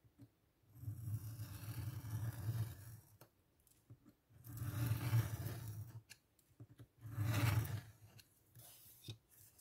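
Scissors cut paper for a junk journal page in three long, close snipping passes with quiet pauses between them and no talk.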